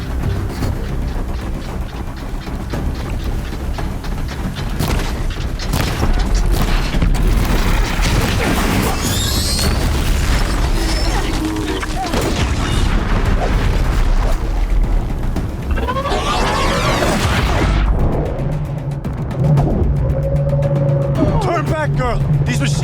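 A Corruptor machine battle in Horizon Zero Dawn plays out as a dense, continuous din of loud mechanical grinding, metallic clanks and booming impacts, with speech heard in between.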